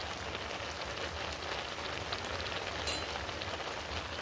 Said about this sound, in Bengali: ভালো করে ভেজে ভেজে নেব।